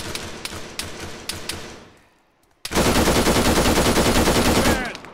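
Rifle gunfire in the military shooter game Arma 3: a few loud single shots at first, then a short lull, then a dense, continuous burst of rapid automatic fire running for over two seconds.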